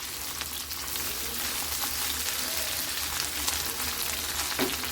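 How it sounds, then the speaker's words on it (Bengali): Food frying in a pan during home cooking, a steady close sizzle and crackle with occasional stirring scrapes and no talking. "এটা একটু ভাজা ভাজা করে এখন এর মধ্যে আমি মশলাগুলো দিয়ে দিব।"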